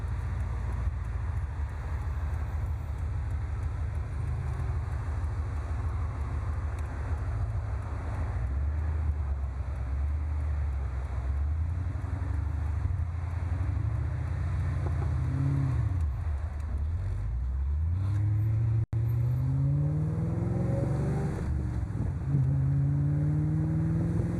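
A 1996 Ford Mustang Cobra convertible pulls out and drives in traffic, heard as a steady low engine drone under constant wind rush, with the pitch rising and falling through gear changes near the end.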